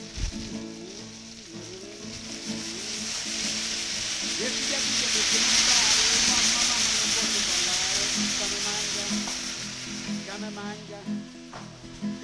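Rabbit pieces frying in a pan as vinegar is added for a cacciatora, a loud steady sizzle that swells and fades over several seconds, close up, with light stirring and no talking.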